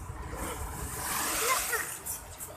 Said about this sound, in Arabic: بصوا الموج عالي ازاي